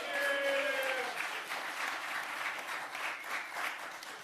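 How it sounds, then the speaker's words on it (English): Applause from the audience at a New York City bill signing ceremony with the mayor greets a union organizer, steady and moderately loud, with a few brief whistle-like tones at the start and a faint murmur beneath. "A big round of applause for Susie."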